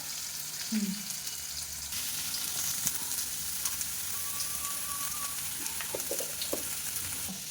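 Onions frying in oil in a pan, a quiet continuous sizzle with a few stirring clinks and scrapes, fairly faint and steady throughout.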